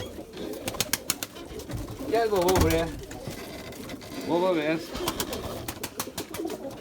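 Domestic pigeons coo on a rooftop loft in two close, throaty bursts, while someone talks softly nearby and occasional sharp wing flaps and clicks break in.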